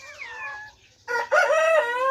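A rooster crows loudly and close by, a short broken call followed by a longer drawn-out crow, at a breeding cage holding mixed-breed Brahma hens.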